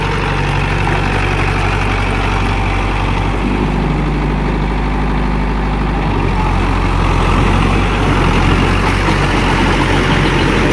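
Mahindra 575 Tech+ 4WD tractor engine running at 1500 RPM in first medium gear while driving a rotavator across a field: a loud, close, continuous low rumble that holds steady throughout, with no talking.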